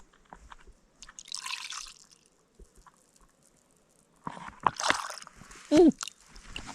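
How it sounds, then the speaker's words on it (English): Maker's Mark bourbon poured into a small cup outdoors, a brief liquid splash and trickle near the end following quiet rustling and a burst of handling noise. "celebrate our bounty and our harvest with a little pour of bourbon"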